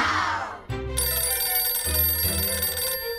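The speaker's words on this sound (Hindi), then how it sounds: "ये फोन की घंटी कहाँ पे बज रही है?" A telephone bell rings loudly and close, a continuous metallic ringing that runs the whole time with no talking.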